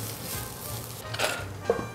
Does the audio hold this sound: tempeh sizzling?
yes